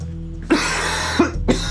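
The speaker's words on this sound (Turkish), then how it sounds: "Fena öksürüyorsun sen." A man in an air-conditioned room gives three harsh, loud coughs close by, each a short burst with brief gaps, over a low steady hum.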